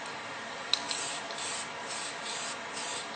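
Blue spray paint hisses from an aerosol can along an edge in a steady, close, continuous spray, with a faint click near the start and small pulses in the mist, and no talking.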